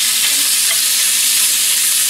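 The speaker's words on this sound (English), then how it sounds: "Can you hear what we smelling? Can you hear what the Weenies are cooking?" Weenies sizzle in a hot pan, a steady, close hiss of frying that continues without a break.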